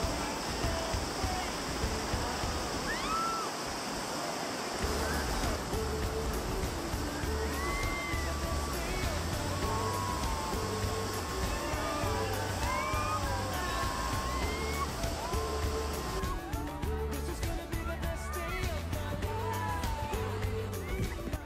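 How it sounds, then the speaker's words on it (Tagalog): River rapids rush constantly during whitewater rafting in the Philippines, a loud, broad, steady water roar close by, with scattered high voices and shouts riding over it. "ang lakas ng current at ang saya. May mga parts din naman na chill lang, pero may rapids din talaga, nahahampasin ka ng tubig"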